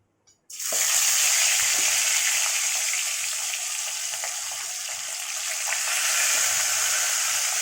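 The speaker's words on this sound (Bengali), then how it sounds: "এবার আমি মাছটা তেলে দিয়ে দেব। একটা একটা করে মাছ আমি ভেজে নেব।" Pomfret fish slides into hot oil in a wok and erupts into a loud, sudden sizzle that settles into a steady, close crackling hiss for the remaining seconds.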